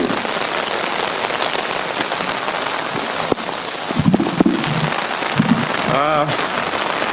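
Steady heavy rain pours outdoors at a memorial gathering, a dense continuous hiss filling the whole stretch, with a few faint voices and knocks beneath it.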